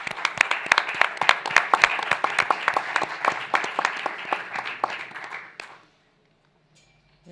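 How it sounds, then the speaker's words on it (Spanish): An audience at a literary event gives applause to welcome writer Luisa Valenzuela, brisk distinct claps in a fairly small crowd, lasting about five seconds and then stopping abruptly into near silence. "vamos a dar un aplauso para recibir a Luisa"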